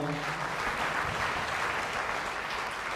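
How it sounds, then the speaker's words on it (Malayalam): Audience clapping together to welcome a visiting brother at a Kuwait youth retreat, a steady dense wash of applause that holds evenly for the full stretch. "അപ്പോൾ ഒന്നും കൂടെ നമുക്ക് കൈയടിച്ച് ബ്രദറിനെ ഒന്നുകൂടെ സ്വാഗതം ചെയ്യാം"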